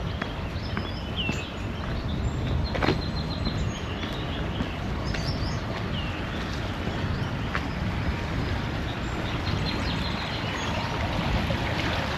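A creek flows beside an iron bridge on an Amish farm in Lancaster County, Pennsylvania, a steady broadband rush of water holding evenly throughout, with faint birdsong above it.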